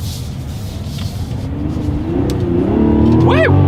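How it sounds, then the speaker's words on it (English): A 2024 Mazda CX-90 engine revs up in first gear in sport mode while shifting with the paddle shifters, heard from inside the cabin, loud and rising steadily, ending in a sharp climbing rev as someone gives a short excited whoop. "So now in first gear here, let's go ahead and test out the paddle shifters."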